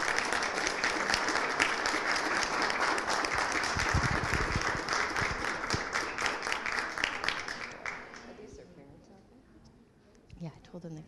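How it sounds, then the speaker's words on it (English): Audience applause at a legislative meeting for students, a dense steady round of clapping that fades out around eight seconds, followed by quiet room sounds. "Let's give them a round of applause."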